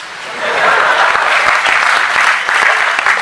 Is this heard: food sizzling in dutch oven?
no